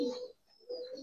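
Pigeons coo in two short bursts with a brief gap between them, close and fairly quiet. The birds include large silver-eyed Giribaz and colouring pigeons kept at a loft in Narayanganj.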